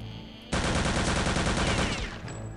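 Automatic gunfire from the player's weapon in Return to Castle Wolfenstein, a loud, rapid burst of shots lasting about a second and a half before cutting off, with no talk over it.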